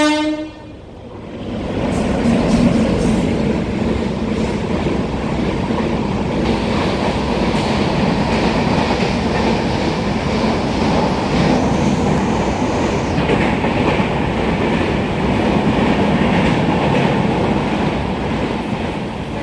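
A train at Sawantwadi railway station rumbles loudly and continuously, with wheels clattering on the rails and a brief horn-like tone near the start, heard close and without talk.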